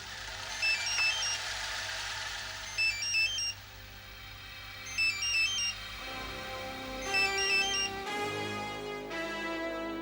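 Phone ringtone ringing in repeated short melodic bursts, about five rings spaced evenly over a low steady hum, fairly close, no talking.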